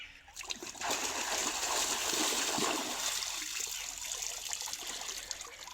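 Cold river water splashing continuously as someone bathes in a stream, a dense rushing wash of spray and pouring water close by, loud and steady throughout.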